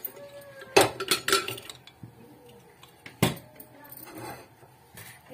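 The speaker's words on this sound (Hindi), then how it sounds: "अब इसको हम चढ़ाते हैं कुकर।" Metal clanks and clinks as a pressure cooker is set down and shifted on a gas stove, a quick cluster of knocks followed by one more clank.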